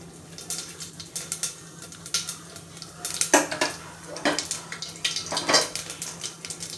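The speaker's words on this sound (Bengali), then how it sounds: "কুকারে দিয়ে দিয়েছি ঘি। এই যে জিরার ফোড়ন দেব।" Cumin seeds crackle as they temper in hot ghee inside a pressure cooker for khichuri, heard as a series of sharp pops and metallic clinks from stirring, close by with no speech.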